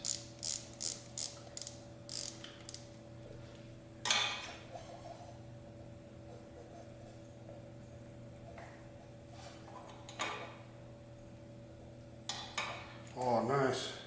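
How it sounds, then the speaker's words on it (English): A ratchet tightens bolts after a cam install on a 106 Victory engine, with a quick series of clicking bursts at the start, isolated clacks in the middle, and more ratcheting at the end. "You just go back around and tighten up the bolts."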